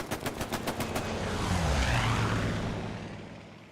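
Strafing run from an aircraft in the online shooter Hell Let Loose: a rapid burst of loud gunfire rounds followed by a roaring rush of engine and impacts sweeping past, with no talk over it.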